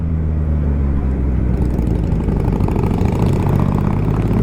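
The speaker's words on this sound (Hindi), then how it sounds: "ये है हार्ले 48" A loud Harley-Davidson 48 motorcycle engine idles steadily up close, deep and throbbing, with no talking over it.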